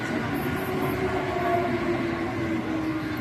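A train passes near a village station, a steady rumbling roll of wheels and carriages with a faint high whine, moderately loud and continuous, no talking.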